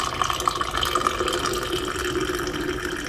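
Hot water from a kettle pours steadily into a candle glass onto leftover candle wax, a continuous splashing, trickling flow that stays close and even for about three seconds with no talking.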